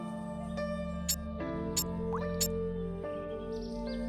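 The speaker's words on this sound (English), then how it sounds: "Oh, I hear water dripping, so we may be running into a bunch of water on this level." Water dripping in the video game KeeperRL, three or four faint, evenly spaced drip clicks about a second apart over a sustained low game ambience with tonal hum.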